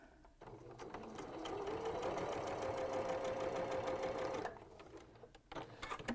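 A sewing machine fitted with a walking foot stitches through several quilt layers and seams, giving a steady, fairly loud mechanical whir with a rapid needle rhythm that runs for about four seconds, then stops. No talking.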